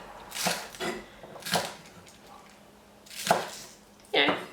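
Spring onions being roughly chopped into short lengths with a knife: a handful of separate, crisp cutting strokes spaced about a second apart, close and fairly quiet, with no talking.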